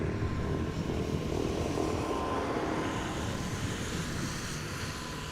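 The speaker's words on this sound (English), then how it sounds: "It's the Dutch government plane, the successor of the Fokker that we used to have, the PH-GOV." Dutch government plane PH-GOV, successor to a Fokker, arriving at Amsterdam Schiphol airport after rain, a continuous broad engine roar heard from outside with wind buffeting the microphone and slowly easing.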